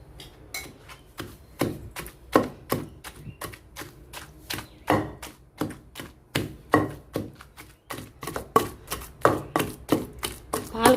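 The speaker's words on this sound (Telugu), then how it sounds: "దీంట్లో పాలకూర వేసేసి మెత్తగా రుబ్బేసుకోవాలి" Spinach ground into chutney with a pestle in a stone mortar gives a steady run of sharp knocks and scrapes, about two to three a second, close and fairly loud for the whole stretch.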